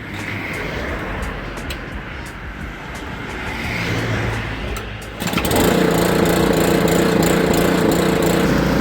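A motor-driven sugarcane juice crushing machine drones steadily at a juice shop, then grows noticeably louder and fuller partway through, with a constant mechanical hum and rattle.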